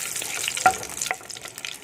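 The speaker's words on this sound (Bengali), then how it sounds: "তেল গরম হয়ে গেছে। এখানে আমি জিরাটা দিয়ে একটুখানি নেড়ে চেড়ে নেবো।" Cumin seeds and dried red chilies frying in hot oil, a close, crackling sizzle with sharp pops and a brief stir, steady for a couple of seconds with no talking.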